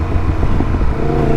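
Motorcycle engine held in first gear on a rickety old road, a steady low rumble with some rough flapping wind buffeting, loud and close throughout.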